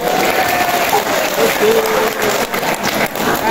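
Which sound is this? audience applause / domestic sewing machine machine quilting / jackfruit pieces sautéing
audience applause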